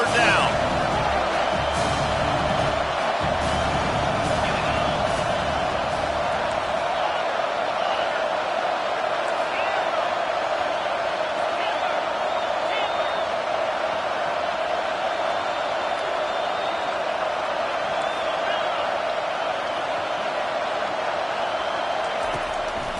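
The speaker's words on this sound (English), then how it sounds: "Decibels rising as the crowd gets behind this defense on third down." Stadium crowd in the NCAA 25 college football game, Ohio State against Georgia, roaring on third down as a steady, dense wall of cheering noise that lasts throughout, with a faint sustained tone.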